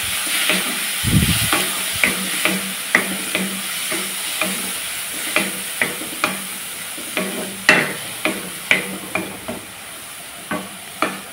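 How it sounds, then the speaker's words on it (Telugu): Raw prawns and gongura leaves fry in a pan while a spoon stirs them, giving a soft steady sizzle under a regular series of sharp scraping clinks against the pan, close and moderately loud. "వేపుకొనేలాగా నీరు ఆరినంత వరకు వేపుకొని ఉంచుకోవాలి"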